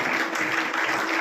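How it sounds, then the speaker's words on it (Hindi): Applause from an audience at a Vaas Foundation awards ceremony honouring poets and notable guests, a dense steady patter of many hands held at an even level throughout the short stretch. "आप लोगों की तालियां बजती रहनी चाहिए"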